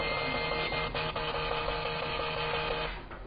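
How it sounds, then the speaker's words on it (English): A HemoCue Glucose 201+ analyzer's small printer printing a result, a rapid rhythmic mechanical buzzing and ticking in quick bursts, close and steady for about three seconds before fading. "the printer will automatically print the result"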